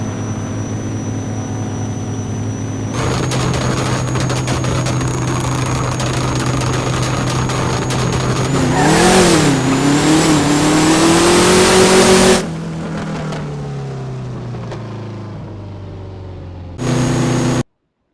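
An El'co car engine revs hard and climbs through acceleration with gear shifts, loud and close, then drops to a lower drone before a final short burst. No one speaks.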